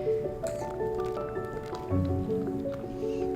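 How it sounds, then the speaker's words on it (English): A thick chocolate custard base with eggs, for double chocolate caramel ice cream, is stirred constantly in a pot, making soft, wet squishing and slurping sounds up close. "At this point, you wanna stir constantly. You don't want it to stick to the bottom."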